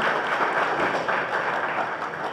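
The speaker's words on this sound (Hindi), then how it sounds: "अभिनंदन करूँ करताली सहित।" Audience clapping steadily at a Congress party joining event in Jajpur, a dense, even wash of applause lasting the whole short stretch with no pauses.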